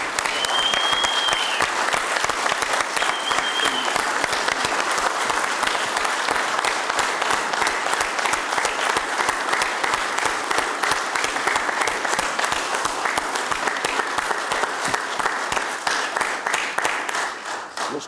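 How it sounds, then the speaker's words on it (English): An audience at a county commission meeting stands, cheers and applauds in a loud, steady wave of clapping that lasts about eighteen seconds, with a whistle early on, before it tapers off. "All those in favor, please stand and cheer."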